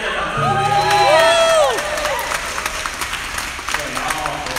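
Audience applause and cheering in a concert hall at a big band performance, with a voice talking over the clapping as it swells and then fades.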